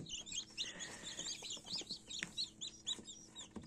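Newly hatched chicks peeping indoors, a busy overlapping chorus of high chirps from several birds, close and fairly soft, with no talk.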